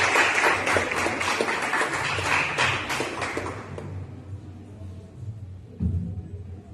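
A church youth service congregation claims in a dense, sustained round of applause that fills the room, then tapers off into scattered claps and a faint murmur.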